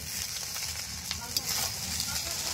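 Fried rice stirred in a pan with ghee in a rustic village kitchen, a continuous hissing sizzle with soft scraping strokes and one sharp clink, close up.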